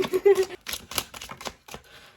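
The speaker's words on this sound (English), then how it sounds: "Shuffling can be a little hard sometimes" Tarot cards being shuffled by hand, a run of quick papery riffles and flicks in uneven bursts, close and fairly loud, with a short pause midway.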